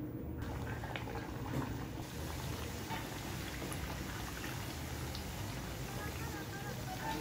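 Sweet matri snacks deep-fry in hot oil until light brown, giving a dense, continuous bubbling crackle that stays steady and close for the whole stretch.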